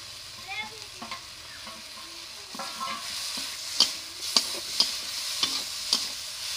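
Okra frying with salt, turmeric and poppy seed paste in a pan, a constant close sizzle with several sharp spatula scrapes in the second half and no talking.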